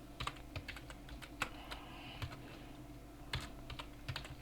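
Typing on a computer keyboard while modelling in OpenSCAD: quick irregular clicks and key taps, close and fairly quiet, with no talking.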